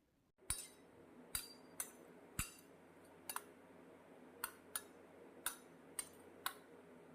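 Spoon clinking against a bowl while saffron-orange food colour is stirred in, a series of about ten sharp, close metallic ticks at irregular intervals over a quiet background.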